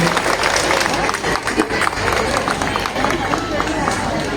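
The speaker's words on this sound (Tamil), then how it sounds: "அவருக்கு மிகப்பெரிய கைத்தட்டல் கொடுக்கலாம்" Steady crowd applause fills a school event honoring a benefactor, dense continuous clapping at an even level throughout, with some crowd murmur underneath.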